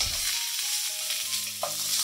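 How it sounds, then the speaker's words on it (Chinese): Fuzzy melon and ginger stir-fry in a wok, with a steady close sizzle and light scraping of stirring throughout. "等佢同啲姜炒埋一齐，同埋轻轻炒一炒佢咧，佢会香啲嘅。"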